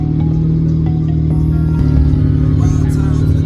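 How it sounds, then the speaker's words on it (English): A car's engine rumbles steadily from inside the cabin while driving in traffic, a low droning hum with a shift in tone partway through and some light rattles over it. "And the traffic begins."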